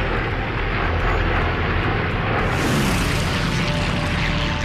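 Massed formation of over 200 WWII warplanes flying over near the northern Solomon Islands, a loud continuous engine roar with heavy low rumble that swells and brightens partway through, no speech.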